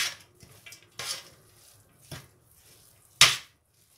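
Peas and capsicum being stir-fried in a pan for a potato-chicken samosa filling, heard as a few separate metallic clinks and scrapes of a spoon against the pan over a faint sizzle.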